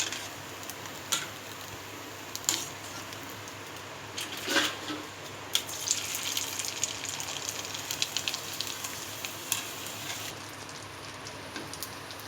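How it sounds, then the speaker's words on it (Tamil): Rice and sago koozh vadagam fry in hot oil over a high flame, crackling and sizzling steadily up close, with sharp pops and ticks scattered throughout. "வடகம் சூப்பராக பொரிஞ்சு வருது."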